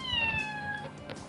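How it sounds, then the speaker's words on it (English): A house cat meows close by, one drawn-out, falling cry. "it's a damn cat."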